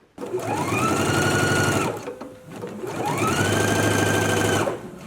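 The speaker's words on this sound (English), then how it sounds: "Let's go ahead and stitch it now." A sewing machine runs two long stitching bursts along a jumpsuit seam, a close whirring motor hum with a rapid needle rhythm, separated by a short pause.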